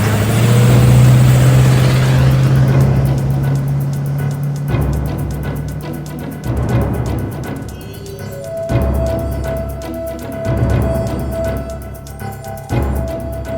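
A car engine fires up and revs loudly as an intro sound effect, a roaring, rising and falling engine note that pulses through several throttle blips and dominates the whole stretch.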